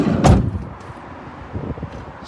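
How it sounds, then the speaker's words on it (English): The side loading door of a ply-lined van is worked with a near, loud sliding clunk, then softer rattles and latching knocks follow. "Side loading door to this side."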